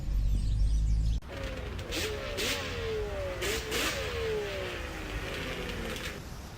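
A motorcycle engine revs and shifts through gears, rising and falling pitch sweeps over a steady rumble, heard at moderate distance.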